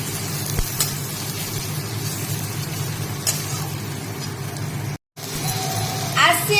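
Vegetables fry in oil with a steady, moderate sizzle, a couple of light clinks, and a brief moment of silence near the end.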